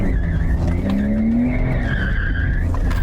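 A Porsche sports car oversteers through a corner on a driving course, its tires squealing in a sustained skid over the loud, close engine drone, with no talk.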